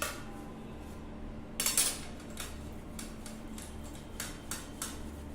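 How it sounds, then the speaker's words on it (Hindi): Boiled potatoes rubbed against a metal grater in a home kitchen, giving light, quiet scraping and clinking strokes, with one louder rasp near the start and a few sharp taps later, all faint against a steady low background. "4 बॉयल आलू लिए हैं, इसको कद्दूकस कर लेते हैं।"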